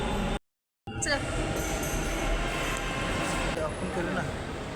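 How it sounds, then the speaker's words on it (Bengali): A metro train arrives, rumbling steadily nearby with a faint wheel squeal, after a brief silence, with voices occasionally audible over the noise. "এই দেখো পিছনে কিন্তু মেট্রো এসে গেছে"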